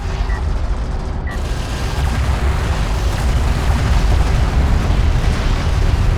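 Armored vehicle destroyed in the real-time strategy game Homeworld: Deserts of Kharak, heard as a loud, sustained rumbling blast that swells after a brief lull and roars on steadily with no talking over it.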